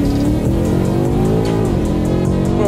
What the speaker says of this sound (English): So here we go, launch control act.